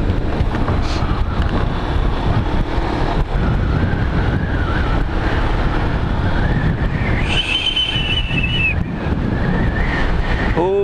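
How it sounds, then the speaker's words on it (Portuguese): A low-displacement motorcycle rides on a road, with a steady engine drone that rises and falls under heavy wind rush. "Como é bom andar de moto."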